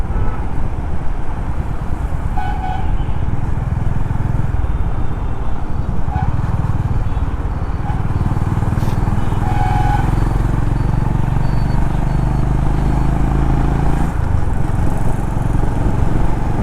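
A Honda CB350RS motorcycle being ridden, its engine a steady loud drone throughout with low rumbling and shifting pitch, no talk over it.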